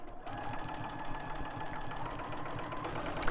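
A sewing machine stitches Dresden Plate quilt pieces, a close, rapid, even mechanical chatter running without a break.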